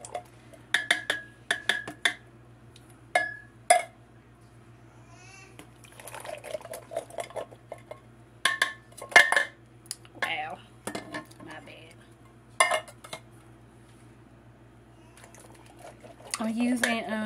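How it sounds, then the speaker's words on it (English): Beans added to a crockpot of chili with green peppers and onions, heard as scattered clinks of a spoon and can against the pot and soft wet plops and pours, close by, with quiet speech between the sounds. "Then I'm going to go ahead and add my beans."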